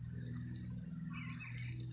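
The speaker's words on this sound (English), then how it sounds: "give it a nice water right here in the center" Soil in a watermelon grow bag being watered at the center, a steady, soft rush of pouring water over a low background hum, continuous for the whole stretch.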